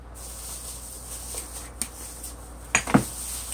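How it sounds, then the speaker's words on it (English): Rasta pasta with shrimp and smoked salmon is stirred in a pan: soft scraping and shuffling over a steady background hiss, with a few sharper utensil knocks near the end. "let me stir this up a little bit more."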